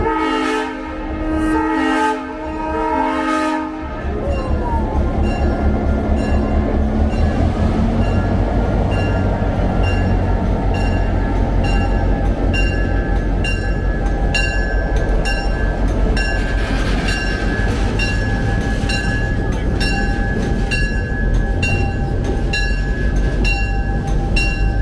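A GP9 diesel in Nickel Plate heritage paint hauls a river excursion train from Phillipsburg to Riegelsville. A horn sounds at the start, then a loud, steady engine drone and wheel clatter carry on throughout.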